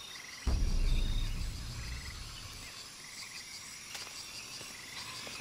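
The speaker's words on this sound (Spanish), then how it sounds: "Miren, un sapo verde." A green toad croaks in the jungle of Shadow of the Tomb Raider, a few soft, near calls set against a steady hum of insects and forest ambience, with no voices.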